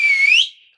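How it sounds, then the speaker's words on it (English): A single loud whistled note from a person, bright and piercing, gliding slightly upward before cutting off sharply, close and alone. "That's our indoor whistle."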